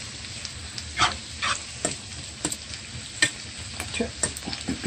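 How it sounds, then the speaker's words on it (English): Garlic sautéing in butter while being stirred constantly, a soft continuous sizzle broken by intermittent scraping strokes of a utensil in the pan, close and alone. "Saute your garlic for 30 seconds and ensuring that it doesn't burn. And you're stirring constantly, like I'm doing here."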